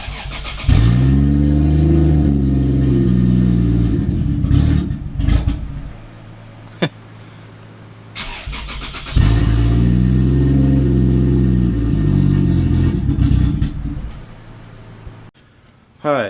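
A 2JZ-GTE engine in a Lexus IS300 revs hard in two long, loud bursts with a brief lull between them, each climbing and holding a high, strained pitch before dropping off.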